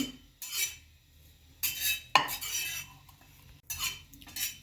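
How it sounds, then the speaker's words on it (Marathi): A spatula stirs and scrapes grated coconut being dry-roasted in a pan for a mixed vegetable dish, heard as several short scraping bursts with quiet gaps between them. "खोबरं देखील आपल्याला एक मिनिट छान भाजून घ्यायचं आहे"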